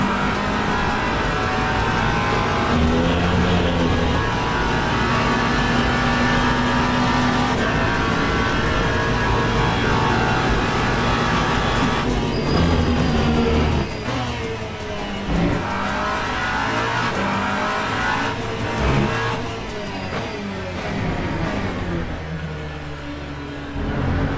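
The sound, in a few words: hypercar engine accelerating out of a corner in a racing video game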